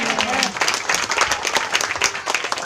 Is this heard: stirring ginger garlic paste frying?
no